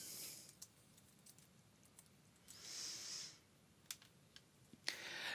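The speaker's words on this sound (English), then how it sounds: "I'm going to type in name changer" Quiet keyboard typing plays as scattered light clicks and taps with uneven spacing, faint and close, alongside a brief soft hiss.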